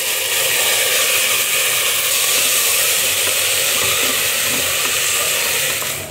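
Rice poured into frying spice masala for biryani sizzles loudly and steadily, a dense continuous hiss close to the pan with no talking.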